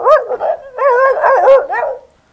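A man imitates a dog barking with his voice, a run of yelping, howling bark-like calls over about two seconds, close and loud, then stopping.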